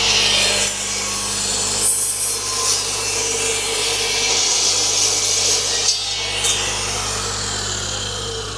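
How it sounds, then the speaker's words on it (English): Flat steel bars being cut for welding a box section to a beam on a helicopter hangar door build, a loud continuous grinding rasp with brief dips and pauses, close by. "Frank's just cutting the flat bars that we're going to weld from the box to the beam"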